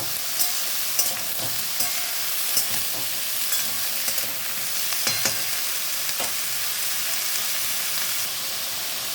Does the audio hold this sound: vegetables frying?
yes